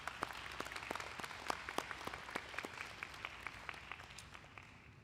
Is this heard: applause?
yes